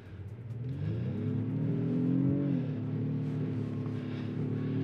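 A 2024 Honda Pilot Trailsport climbing a snowy mountain road in trail mode on lowered tire pressure, its engine droning loud and close, pitch rising as it pulls up the climb, then easing slightly and holding steady.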